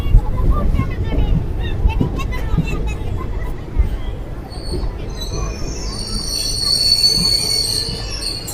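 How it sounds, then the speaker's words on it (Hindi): A passenger train pulls into Gandhinagar Jaipur station, its wheels giving off a steady metallic rumble that turns into a high, sustained squeal near the end, with some voices heard faintly underneath. "तो 12:10 पर हमारी ट्रेन का अराइवल हो गया है गांधीनगर जयपुर पर।"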